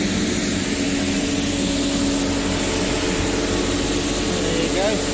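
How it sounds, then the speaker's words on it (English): Steady droning hum of a cleaning machine running close by outdoors in Cartagena, loud and constant throughout with a faint tonal whine, no one speaking. "Sorry for the noise of the cleaner"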